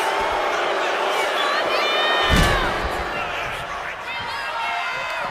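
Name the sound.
crowd cheering at a live wrestling event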